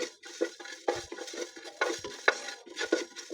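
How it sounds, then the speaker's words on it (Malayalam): Whole spices and leaves roast in a pan for chicken mandi. A spatula scrapes and stirs in quick repeated strokes over a soft, dry sizzle, close and alone. "ഇനി നമുക്കിത് വറുത്തെടുക്കാം കേട്ടോ"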